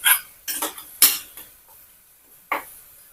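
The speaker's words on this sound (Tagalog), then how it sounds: "Haluin natin kunti." Adobo cooked with coconut milk is stirred in a pan, giving four separate metallic scrapes and clinks of a utensil against the pan, close and fairly loud with short quiet gaps between.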